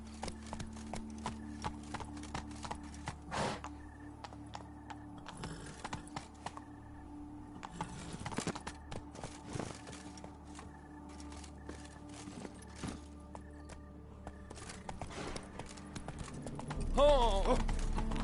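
Roach, Geralt's horse in The Witcher 3, clip-clops in steady hoof rhythm under game music and ambience. The hoofbeats are moderately near and fairly quiet overall.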